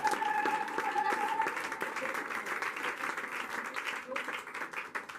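Church congregation applauding steadily throughout, a dense sustained clapping crowd with a voice speaking over it near the start.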